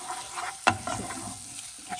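A spoon stirs a pot of food seasoned with sea salt, making one sharp knock against the pot followed by soft wet scraping and sloshing, close and fairly quiet.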